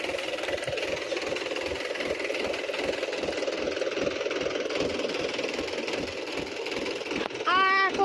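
A jammed groundnut thresher engine running steadily on a farm, a loud rhythmic mid-pitched chugging with a knocking pulse, with a person talking near the end.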